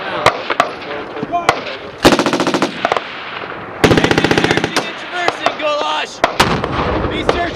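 A Marine Corps machine gun section fires on the 29 Palms range, with two long, loud rattling bursts and scattered sharp single cracks, and voices shouting nearby.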